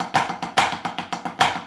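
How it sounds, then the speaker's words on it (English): Snare drum triplets with a flam on every accent, the louder flammed hits standing out from softer taps in a close, steady repeating figure with no voices. "We could put a flam on every accent."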